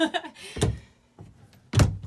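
Closet door in the bathroom of a 1997 Fleetwood Pace Arrow 32G motorhome being opened, giving a couple of close, sharp knocks and clunks with a brief rattle between them.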